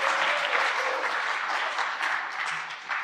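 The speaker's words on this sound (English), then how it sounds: "I think I just got clapped off the stage" A dense audience applauds at a university health professions faculty presentation day, with steady, close clapping that fills the whole stretch without pause.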